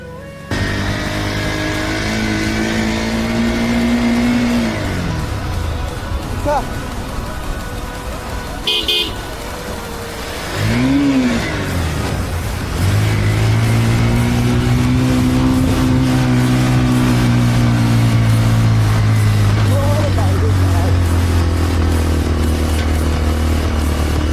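Motorcycle engine on a steep hill road, descending a cut-hill slope, droning steadily and loudly with rising and falling pitch as it revs, heavy wind and road noise throughout.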